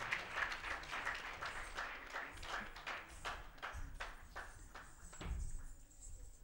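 Audience clapping for Odissi classical dancers after a performance, a sparse, uneven round of hand claps with distinct individual slaps and some low thumps, fairly close and moderately loud.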